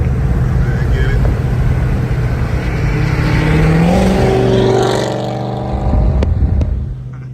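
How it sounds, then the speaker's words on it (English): A newly bought car passes close by in a loud flyby, its engine droning and pitch sliding as it approaches and moves away. Near the end the sound drops off with a few sharp knocks. "Here we come with a little flyby."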